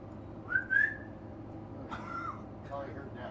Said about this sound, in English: I said there was whistling right here.